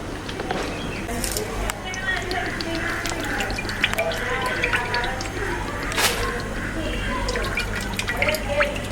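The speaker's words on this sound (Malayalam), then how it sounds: "അപ്പോൾ നമ്മളിതിനായിട്ട് ഒരു 750 ഗ്രാം നല്ലെണ്ണ ഇതിലേക്ക് ഒഴിച്ചു കൊടുക്കുന്നുണ്ട്" About 750 grams of sesame oil pours steadily into a pan for fish pickle, making a continuous close splashing stream with small drips and gurgles throughout.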